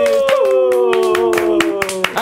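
Scattered hand claps from a studio audience welcome a guest onto a radio music show, sounding under a prominent voice.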